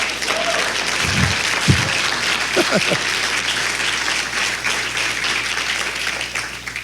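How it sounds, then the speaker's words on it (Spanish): A church congregation applauds during a sermon, a steady wash of many hands with a few brief voices and low thumps near the start. "si va a aplaudir, aplauda con ganas, hombre"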